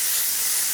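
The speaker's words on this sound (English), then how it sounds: "now I'm going to have my mom spray my face with glitter" Glitter spray misted onto a face from an aerosol can, a single steady close hiss that runs unbroken through the whole moment.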